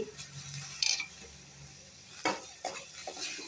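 Tomato and grated ginger sautéing in a pan for an ash gourd curry, a soft low sizzle with a few light scrapes and clinks of a spoon stirring, quiet and without talking.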